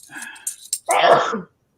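A single sharp sneeze, close and loud, preceded by a short inhaling wind-up.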